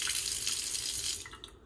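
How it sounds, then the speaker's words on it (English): A touchless kitchen faucet runs with a steady broadband rush of water that tapers off near the end, close and alone without talk. "This is one of those touchless faucets that's too fancy for me to know how to work"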